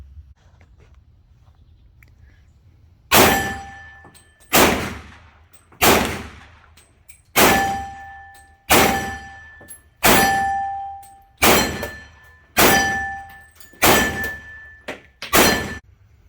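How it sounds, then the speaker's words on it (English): A Sig P229 pistol in .40 S&W fires nine loud, evenly spaced shots about a second or so apart outdoors, each sharp report ringing briefly with a metallic tone before the next. "show some video of me shooting it early in the summer with the old Recoil Spring"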